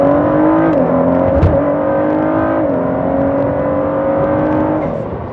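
Ford GT supercar engine revving hard and accelerating, a loud, close, smooth rising roar with pitch steps as it shifts, fading slightly at the end.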